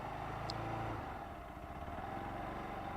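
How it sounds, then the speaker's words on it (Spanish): Motorcycle engine held at steady revs in third gear as the rider opens the throttle with the clutch in, a continuous close drone with a slight shift in tone partway through. "Vamos a acelerar esta número 3, 2 medio a 3"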